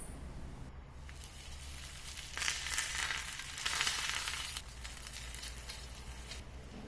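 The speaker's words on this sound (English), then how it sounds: "On the tawa, I add in ghee and make this pulka on both the sides." A pulka cooks in ghee on a hot tawa, giving a soft steady sizzle that swells louder for a couple of moments mid-clip before settling back, with no talking.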